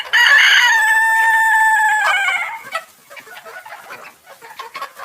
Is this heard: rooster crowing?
yes